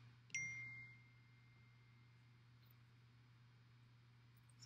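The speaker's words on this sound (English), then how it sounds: "Sorry, my phone's going off." A phone notification chime goes off once near the start, a brief bright tone with a short ringing tail, fairly faint over a steady low room hum, followed by quiet.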